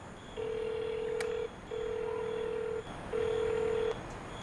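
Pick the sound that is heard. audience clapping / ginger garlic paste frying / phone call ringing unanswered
phone call ringing unanswered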